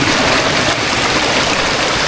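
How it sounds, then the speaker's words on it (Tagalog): Water from Candice Falls pours down into a stream at a camping spot, a loud, constant broadband rush close by with no pauses. "Dito yung binabagsakan ng tubig doon sa falls na pupuntahan natin"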